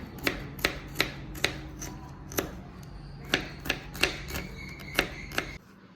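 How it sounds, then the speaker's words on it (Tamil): A knife strikes a board in sharp, irregular taps while finely chopping five garlic cloves. About a dozen close, crisp knocks come in short bursts with pauses between them. "அந்த பூண்டை வந்து நான் இப்போ கட் பண்ணிக்கிறேன் பொடியாக."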